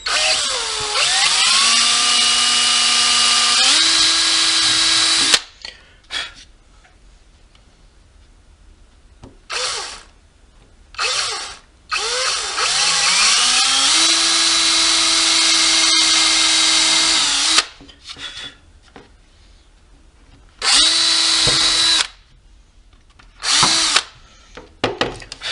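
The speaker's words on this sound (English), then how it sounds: "I'll go ahead and drill a couple holes, get a couple holes drilled" A power drill whines loudly in several bursts while drilling holes, long runs and short stops, with pitch sweeping as the bit bites in and spins down.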